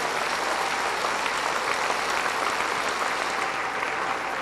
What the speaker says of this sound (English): Please give yourself another round of applause, high school.